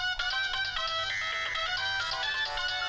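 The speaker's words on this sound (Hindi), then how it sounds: "दिव्या, तेरा फोन।" A melodic mobile phone ringtone plays continuously, bright and tonal with a busy repeating tune, loud and close with no talking.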